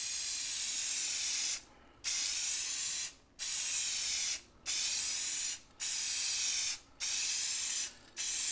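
A spray gun hisses steadily as paint goes onto a Corvair car body during rust repair, long loud bursts broken by six short pauses in a regular pass-by-pass rhythm.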